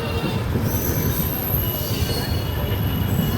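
The Saraighat Express passenger train rolls along with a loud, steady rumble and high, sustained wheel squeal close by.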